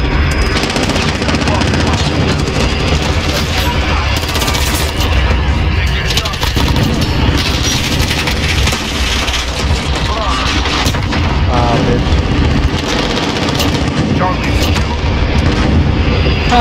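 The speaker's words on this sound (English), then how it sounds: "I got a fucking container explosion." A container explosion in Call of Duty: Modern Warfare on the Rust map in Domination mode, heavy booms and continuous gunfire that stay loud and dense throughout, with a player's voice mixed in.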